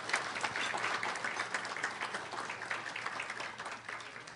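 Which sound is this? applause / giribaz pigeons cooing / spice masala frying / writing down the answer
applause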